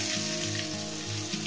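Whole vegetables frying in oil with panch phoron spices for a Bengali chorchori, a steady close sizzle that crackles evenly throughout, with no voices.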